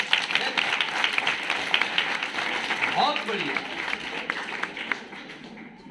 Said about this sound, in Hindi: वेरी गुड, जोरदार ताली से,